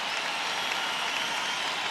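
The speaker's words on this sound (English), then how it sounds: "The crowd trying to get them going here." Basketball arena crowd cheering during a 2005 Western Conference Finals game between the Spurs and the Suns in Phoenix, a steady wash of clapping and crowd noise throughout.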